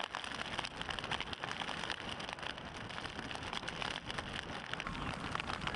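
Heavy rain driven horizontally by strong wind on the Solent during a sailing race, a dense, continuous hiss and patter drumming on surfaces close by, with no voices.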